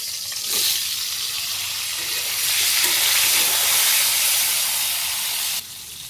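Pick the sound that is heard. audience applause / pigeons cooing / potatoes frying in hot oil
potatoes frying in hot oil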